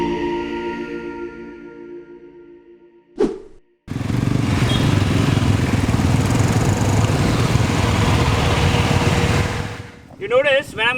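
A Yezdi motorcycle, with Adventure and Scrambler models present, starts after a brief pause and then runs loud and steady nearby for several seconds, with voices heard before and at the end.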